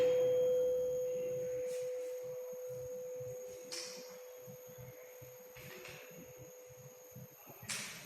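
A resonance tube struck into a loud ringing tone: one steady, pure hum that starts strong and slowly fades over several seconds, with faint knocks and rustles underneath.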